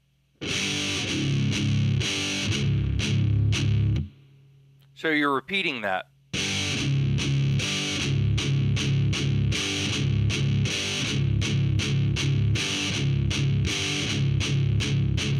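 A distorted heavy metal electric guitar hammers palm-muted downstroke chunks on the low strings in tight, repeated rhythmic bursts, loud and close. The playing stops briefly while someone speaks, then the pattern resumes.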